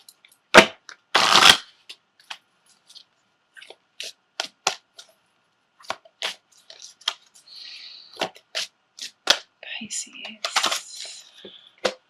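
A deck of tarot and oracle cards being shuffled up close, with brisk riffles, crisp flicks and tapping card snaps in an irregular pattern, fairly quiet with soft pauses between bursts.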